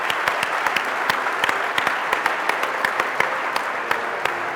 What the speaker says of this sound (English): Please, a nice round of applause for Mark Donovan of the Kansas City Chiefs.